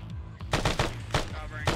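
Sporadic gunfire during a military firefight, several sharp shots and short bursts cracking out at irregular intervals, fairly close and loud, with faint voices underneath.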